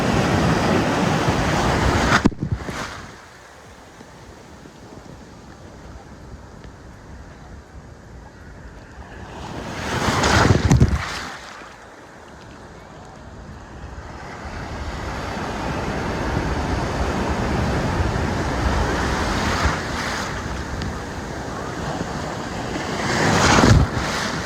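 Ocean waves and surf washing ashore at Sherwood Beach on Oahu's east shore, a steady broadband roar with wind buffeting the microphone, swelling louder around two crashing breaks and again near the end.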